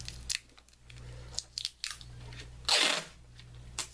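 A roll of tape being picked up and handled, with crinkly crunches, rustles and one louder ripping tear near the end, close by and fairly quiet over a low background hum.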